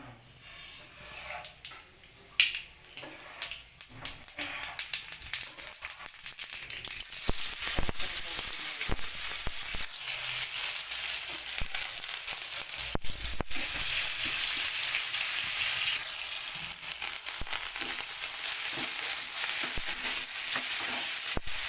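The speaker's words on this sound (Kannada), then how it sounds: "ಮೆಣಸು ಜೀರಿಗೆ ಟಮಾಟೆ ಕರಿಬೇವು ಕೊತ್ತಂಬರಿ ಎಲ್ಲವನ್ನು ಹಾಕ್ಕೊಂಡು ಫ್ರೈ ಮಾಡ್ತಾ ಇರ್ತೀನಿ" Chillies, cumin, tomato, curry leaves and coriander fry in hot oil in a pan for a North Karnataka brinjal curry, with a steady loud sizzle that swells after a few seconds, broken by the scrape and clatter of stirring.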